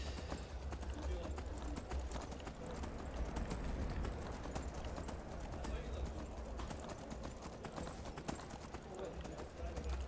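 A horse gallops in the Skyrim video game, its hoofbeats clopping in a fast, steady rhythm under continuous talk.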